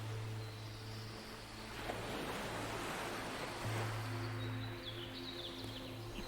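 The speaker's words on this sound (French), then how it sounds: "tu peux aussi entendre ces vagues qui viennent à toi dans un rythme régulier et apaisant" Ocean surf rolling onto a sandy beach in a steady, continuous wash, fairly loud and close, with a faint low engine-like hum underneath and no voices.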